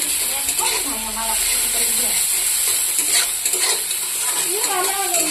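Garlic, green chilli and onion fry in a pan with a steady, close sizzling hiss and occasional stirring scrapes, running under a person talking throughout.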